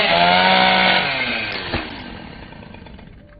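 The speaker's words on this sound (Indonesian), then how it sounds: "Doc menggergaji kepala Jeb sesuai perintah Kuko untuk dibawa ke hadapan keluarga Prado." A chainsaw-like saw revs loudly and steadily, then tapers off into a fading whine over a few seconds, with a brief sharp knock midway.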